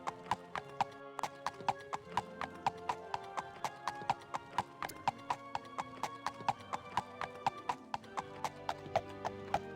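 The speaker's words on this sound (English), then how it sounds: "this is the speed of horse." Horse hooves clip-clop in the Elder Scrolls 2 video game, a steady, evenly spaced trot of crisp taps, close and clear over a quiet musical background, with no voices.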